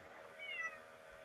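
A cat yowls once in a short, drawn-out cry, faint against a low steady background hum, with no voices.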